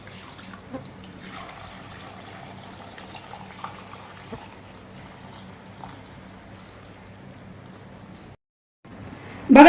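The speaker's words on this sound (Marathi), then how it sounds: "तिसऱ्या पाण्यातलं चिक गाळून घेऊया." Third soaking water of new wheat being strained for kurdai, a steady soft trickle and splash of water running through a strainer into a container, fairly quiet and continuous, with a brief gap near the end before a louder knock.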